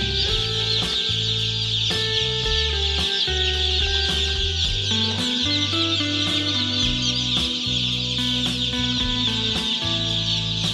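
A dense crowd of chickens being counted and unloaded at a poultry farm, clucking and squawking nonstop, loud and close, with a constant droning hum running underneath.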